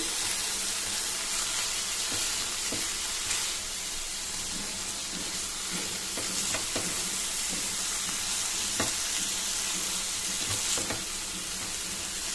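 Jaggery and grated coconut filling for a sweet ragi millet paratha cooks in a pan, giving a steady close sizzle broken by repeated scraping strokes of a spoon stirring the thickening mixture, with no talking.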